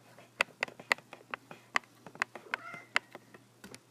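A house cat meows repeatedly in a quiet room, a rapid series of short, fairly close calls with a longer drawn-out cry near the middle, no talking.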